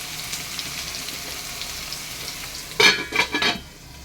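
Onions frying in a pan until reddish-brown, a steady faint sizzle with a few louder bursts of stirring or spattering near the end, no talking.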